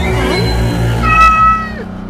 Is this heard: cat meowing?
yes